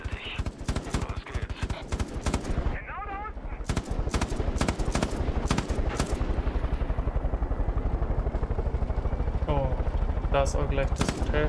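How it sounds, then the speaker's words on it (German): Helicopters fly overhead in the Far Cry 5 video game, a loud continuous rotor drone mixed with bursts of rapid machine-gun fire throughout. "Vor allem sind es jetzt schon wieder drei Helis."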